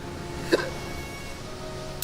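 A single quick hiccup sounds once near the start, brief and fairly close, over a steady low background hum in a visual novel scene.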